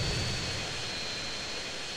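Steady airplane engine drone from GTA San Andreas, a continuous broadband roar with a faint high whine, holding at an even level throughout with no voices.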